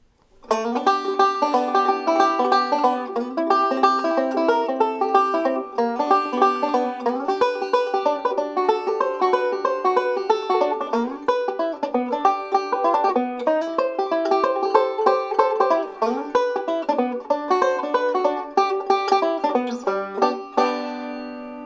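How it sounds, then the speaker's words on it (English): Bright, twangy banjo picks continuous rolling three-finger chords on the top three strings with quick slides and pull-offs, a steady cascade of plucked strings played alone. "playing 3-finger chords in the top 3 strings"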